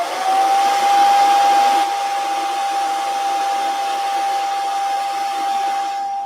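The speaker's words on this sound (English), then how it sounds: "apologies, this is my hairdryer." A hair dryer blows steadily at close range, a constant whooshing roar with a thin high whine that holds without a break.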